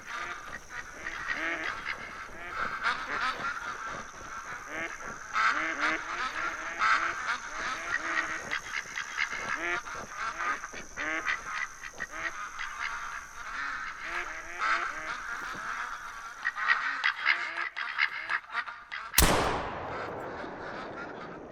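Ducks quack and honk continuously in theHunter: Call of the Wild, a busy flock calling at moderate distance with wingbeats mixed in, ending in a sudden loud shotgun blast near the close.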